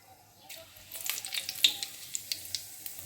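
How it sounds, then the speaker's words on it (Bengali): Cumin seeds drop into hot oil left from frying fish for a tempering, giving a rising sizzle with a run of small crackles and pops, close and fairly quiet, no voices. "এবার ফোড়ন দেব। এবার একটু জিরে দিলাম"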